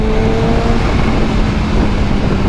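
A Kawasaki Ninja H2 motorcycle engine pulls away from idle in third gear, a loud, steady close-up drone with a slightly wavering pitch that continues throughout.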